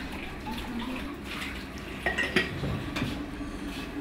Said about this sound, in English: The dishes are washed by hand.